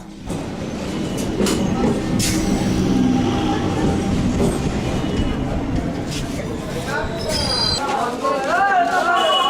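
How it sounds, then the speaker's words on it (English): A train rolls into a busy Indian railway station with a loud, steady rumble of wheels and carriages that fills the whole stretch, while voices and station chatter rise over it near the end. "And here is India's train."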